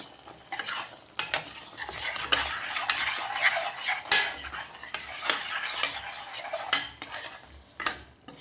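A spoon scrapes and clatters in a pot as goat mutton is stirred into masala at home. Irregular, close metallic strokes over a faint sizzle, with no voices.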